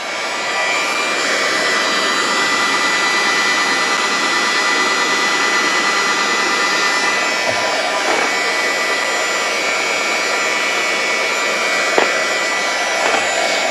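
A vacuum runs in a loud, steady roar while sucking up dry ballistic gel powder, with occasional small rattles and ticks of particles passing through the nozzle and no talking.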